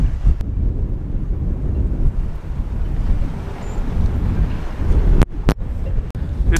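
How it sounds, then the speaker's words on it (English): Strong wind buffets the microphone in a steady low roar, with a few sharp gusty thumps near the end. "It's probably really windy."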